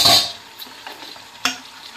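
Chicken cooks in refined oil in a kadhai with a soft sizzle. Sharp stirring scrapes and clinks of a utensil against the pan ring out at the start and again about a second and a half later.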